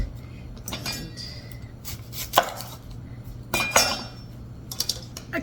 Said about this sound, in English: Next, I'm going to start chopping up my onions.